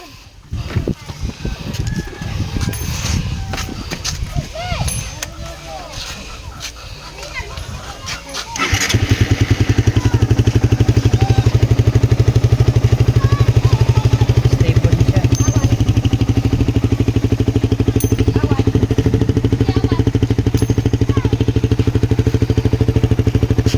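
Rustling and handling noises with birds in the background, then a Rider 150 motorcycle with a LiFePO4 battery starts on one click and runs at a steady, loud idle nearby.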